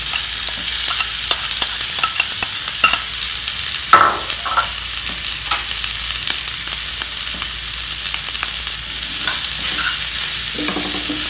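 Spicy coconut chutney ingredients being stirred in a hot pan, with a loud, steady sizzle and repeated scraping and clattering of the spoon close by, no voices.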